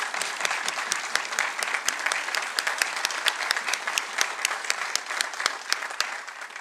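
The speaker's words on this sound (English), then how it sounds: "I think they deserve a round of applause." Steady applause fills a council chamber at an annual borough council meeting, dense clapping from many hands sustained throughout with no talking over it.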